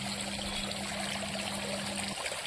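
A small water fountain runs steadily in a tank of fish fry, giving a continuous close trickling and pouring wash with a faint steady hum beneath it, with no talk.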